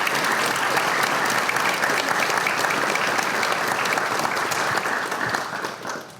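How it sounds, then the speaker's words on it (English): Sustained, loud applause from an audience at a rural health clinic dedication ceremony, steady dense clapping that holds for several seconds before tapering off near the end. "Big round of applause for them."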